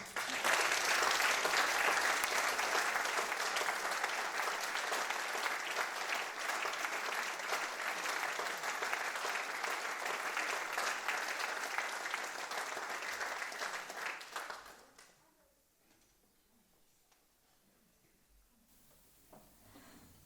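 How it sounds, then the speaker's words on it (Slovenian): A concert audience at an orchestra's summer night show applauds a soloist, loud sustained clapping for about fifteen seconds, then cutting off abruptly into near quiet. "En velik aplavz."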